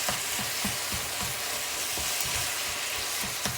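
Turkey mince sizzles and fries steadily in a pan, a dense continuous crackle with occasional soft stirring scrapes, close and alone with no voices.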